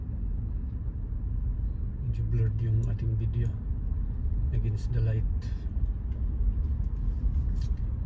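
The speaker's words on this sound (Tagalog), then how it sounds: "Yan, ganito po dito pag traffic guys." Traffic on a busy highway in Halifax, Nova Scotia, makes a steady low rumble of passing cars and trucks, while someone talks over it for most of the stretch.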